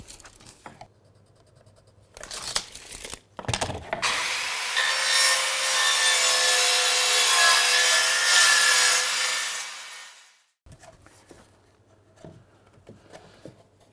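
A hand saw cuts through a click-system laminate flooring board in one long, steady rasping run of strokes, close and loud, with light handling knocks before it and after it.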